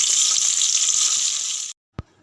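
Onions frying in hot oil with cumin for a potato palya, making a loud, bright, steady sizzle close up that cuts off abruptly, followed by a single short knock.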